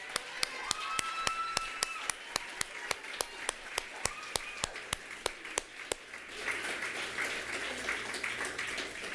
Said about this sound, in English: So another round of applause for our wonderful readers tonight.